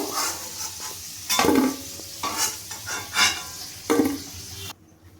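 Oil sizzles steadily as potatoes fry, while a spatula scrapes and clinks against the pan in several bursts, then the sound drops away abruptly near the end.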